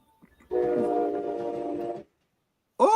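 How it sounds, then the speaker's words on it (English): A train horn sounds one sustained, steady blast of about a second and a half, heard at a distance, then cuts off, followed by a short fragment of another sound. "I got a train coming through."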